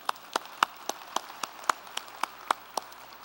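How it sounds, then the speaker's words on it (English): Slow, evenly spaced single claps, about three per second, sound clearly over a quiet background, like one person clapping steadily at a speaking event in Calgary. "A round of applause for Martin Sheen."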